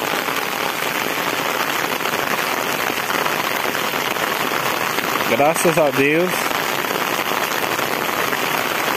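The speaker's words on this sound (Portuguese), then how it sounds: "Chuva no sertão." Rain falls in the Sertão at Tanque Novo, Bahia, during an April shower, as a dense, steady hiss and patter throughout, with a brief spoken voice partway through.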